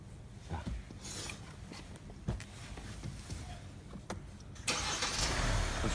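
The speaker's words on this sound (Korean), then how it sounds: "이렇게 시동이 걸립니다" A car engine cranks and catches after its ignition fuse is plugged back in during an idle-limiter installation, with broadband mechanical noise and a louder steady running roar arriving near the end.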